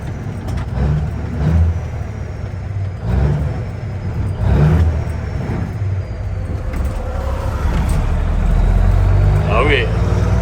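A 1985 Peterbilt 362 cabover truck engine revs and drops repeatedly as gears are shifted, the rising and falling drone close and loud while people talk over it.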